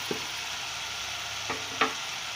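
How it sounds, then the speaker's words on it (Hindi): Powdered spices (black salt, dried mango powder, turmeric) roasting in a pan for black chana chaat, a steady low sizzle with a couple of faint stirring scrapes and taps near the end. "और इन्हें भी मैं बहुत अच्छी तरह से भून लूँगी।"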